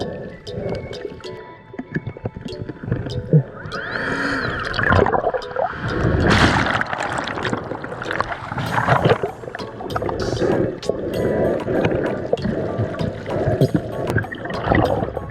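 Ocean waves crash and churn around someone metal detecting in the surf, with turbulent water surging and swirling close by in loud, uneven bursts that continue throughout.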